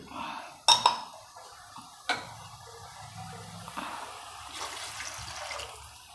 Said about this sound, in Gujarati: બે ગ્લાસ પાણી નાખ્યું છે